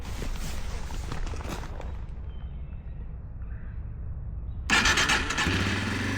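A Yamaha TW200 motorcycle is started with the choke fully out: the starter cranks, then the engine catches near the end and settles into a loud idle close by.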